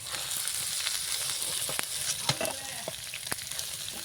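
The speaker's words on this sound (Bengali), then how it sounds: "আলুটাও একটু ভালো করে ভেজে নেব" Cut potatoes fry in hot oil in a pan, giving a quiet, steady sizzle. Scattered clicks and scrapes of stirring break through it, and no one speaks.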